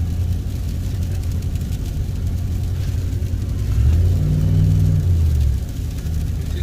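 A car in two-wheel drive on a slick, snowy road during a blizzard gives a constant low engine rumble and road noise, rising briefly midway.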